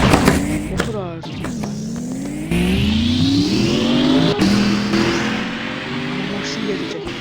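Bugatti supercar engine revving and accelerating, rising harmonic sweeps climbing in pitch under continuous loud roar, with people talking over it.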